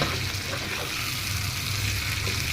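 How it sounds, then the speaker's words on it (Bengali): A paste of green chili, garlic, bottle gourd and onion fries in a pan with a steady, broadband sizzle that holds even and close throughout, with no voices over it. "এখানে কাঁচামরিচ, রসুন বাটা এবং হচ্ছে লাউ ফুলকা বাটা এবং পেঁয়াজ সব কিছু দিয়ে আমি ভালো করে এটার মধ্যে একটু ভাজবো"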